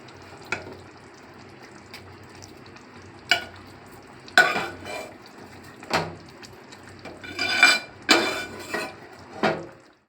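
Cooked gongura leaves stirred into a sizzling tomato chicken gravy: a spoon scrapes and clanks against the pot in sharp, irregular strokes over a low frying hiss, growing busier toward the end, with no voices.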